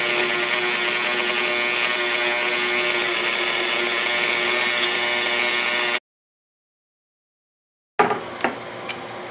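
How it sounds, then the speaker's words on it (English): A Dremel rotary tool grinding and buffing a golf wedge, a loud, steady high whine that cuts off to silence, then returns with scraping bursts. "After about 20 minutes of just grinding with the Dremel"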